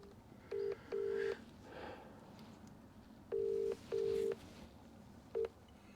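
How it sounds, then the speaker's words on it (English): A phone dialed during a stop at a barn concrete job gives a series of short electronic keypad tones in irregular groups, clear and close over a quiet background rumble. "Just make a quick phone call while I'm stopped."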